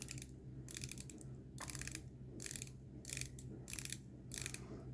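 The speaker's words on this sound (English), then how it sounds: "It's got a lovely, lovely bezel action." Crisp clicking bursts from the ratcheting bezel of a Seiko Prospex Samurai SPRF03 dive watch, turned in about six quick runs of rapid clicks, close and alone over a faint low hum.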